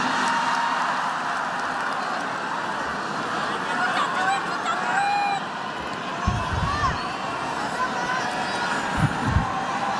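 Audience applause and crowd noise at a speech by President Prabowo, a continuous dense wash of clapping and cheering from a large hall, with a few louder thumps near the end.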